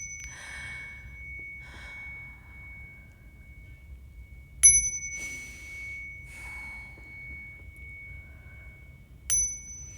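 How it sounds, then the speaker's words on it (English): A small bell rings twice in a radio studio, each a sharp, bright ding with a lingering ring, separated by a few seconds and mixed with soft breathing and gasps. "You ready for the bell?"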